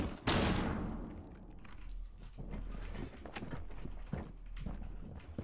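Gunfire in Rainbow Six Siege: an opening loud shot followed by rapid bursts of automatic fire, with a high ringing tone sustained throughout.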